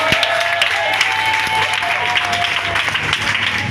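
A church congregation breaks into sustained applause, a dense steady clatter of many hands clapping throughout, fairly loud and close.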